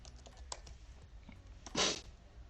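Someone types on a computer keyboard at close range, with a quick run of light key taps and one louder press near the end, and no one talks over it.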